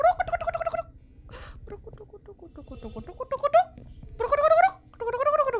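A cute pet bird in the horror video game Project 13 chirps and warbles in several bursts, mixed with gobbling, turkey-like calls, while a person talks over it.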